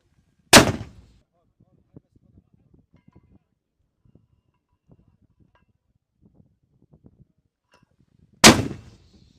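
Two loud, sharp gunshots from a military firing drill ring out about eight seconds apart, each followed by a short echoing decay, with faint clicks and quiet movement between them.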